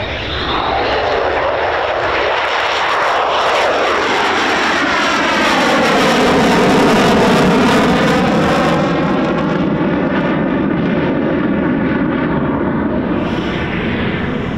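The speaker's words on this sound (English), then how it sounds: "There's another two typhoons still out there. Circuit, so we have four typhoons still airborne now." RAF Eurofighter Typhoon FGR4 jets roar overhead at RAF Coningsby, a loud, sustained jet-engine rush that swells as the aircraft pass, with a sweeping, phasing whine as the sound recedes.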